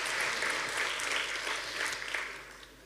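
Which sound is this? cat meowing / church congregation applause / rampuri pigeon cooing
church congregation applause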